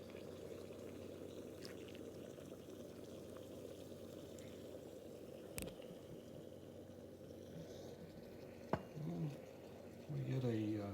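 Hot espresso pours into a cup in a faint, steady liquid trickle over a low background hum, with a couple of brief clinks and a few short hissy bursts near the end.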